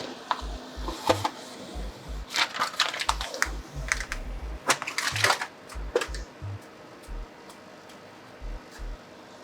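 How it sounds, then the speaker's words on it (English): Protective plastic film peeled off an Ikea greenhouse cabinet's side shelf, giving close, irregular crackling and clicking bursts that cluster and thin out over several seconds with no talk. "let me just peel this off really quick"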